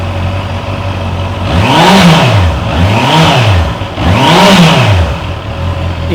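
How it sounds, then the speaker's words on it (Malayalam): A 2025 Honda CB650R inline-four motorcycle engine revs hard three times in a row, each rise and fall of pitch loud and close, with nobody speaking. "ഒരു തകർപ്പൻ ഫീലുള്ള ഒരു സൗണ്ടാണ് ഇൻലൈൻ 4ൻ്റെ ഈ ബൈക്കിന് നൽകുന്നത്"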